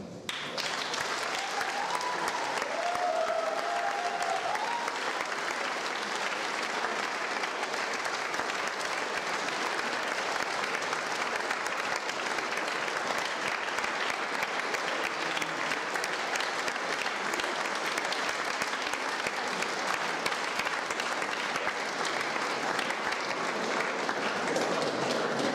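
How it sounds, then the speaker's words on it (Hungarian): An audience at a stage arts evening applauds in a dense, steady wash of clapping that carries on loudly and evenly for about twenty-five seconds. "Szeretném, hogyha Árki Attila és Csukai Zoltán is a színpadra jönne egy tapsért."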